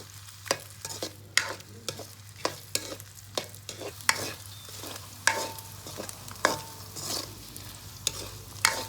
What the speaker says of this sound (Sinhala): මේ විදිහට හැඳි ගාමින් සොසේජස් ටික හොඳින් බැද ගන්න.